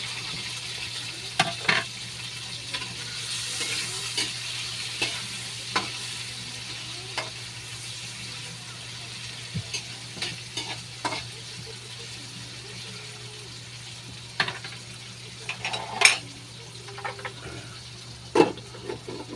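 Chicken and chayote being sautéed in a pan with tomato, mushroom and bell pepper: a quiet, steady sizzle with scattered clacks of a utensil stirring against the pan.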